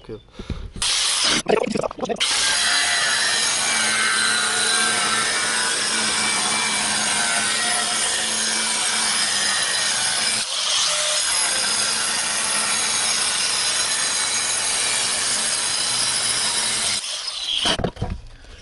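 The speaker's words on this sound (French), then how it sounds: "je vais envoyer ma disqueuse directement du haut de mon carreau jusqu'à mon bois pour faire un trait" An angle grinder cuts through a wood-look ceramic floor tile, a loud continuous abrasive whine and hiss lasting many seconds with a short pause midway, bracketed by brief bursts at start and end.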